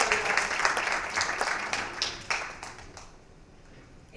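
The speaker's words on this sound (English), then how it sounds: "Let's all welcome them once more together with a massive round of applause" Conference audience at a marketing panel in Dubai giving a round of applause, dense clapping that is strong at first and then thins out and fades toward the end.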